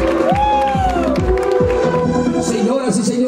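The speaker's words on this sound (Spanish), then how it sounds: "Gracias por los aplausos." Crowd noise and cheers from an audience at a clown's magic show in Ahuachapán, with a voice calling out over steady, loud murmuring and children's shouts.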